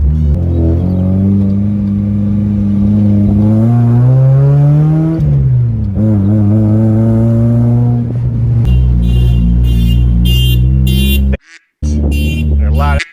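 Mazda Miata engine revving while driving, loud and close, pitch climbing through the revs with a shift and drop, then a steady rumble with a brief cut near the end.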